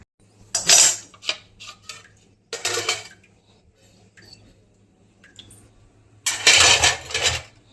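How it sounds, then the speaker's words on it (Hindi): Breakfast dishes, pots and cutlery are washed at a home kitchen sink, with bursts of clattering steel utensils and clinking plates separated by quieter gaps, close and fairly loud. "ये सुबह के बर्तन इतने हैं।"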